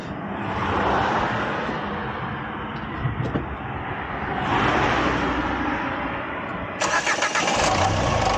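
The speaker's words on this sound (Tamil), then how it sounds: "இப்போ பார்த்தீங்கன்னா இன்ஜினோட ஐடிலிங் நாய்ஸ் நம்ம வந்து கேட்போம்." A Renault Captur diesel engine cranks and catches, then settles into a steady idle, close and loud, with a sharper rattling burst near the end.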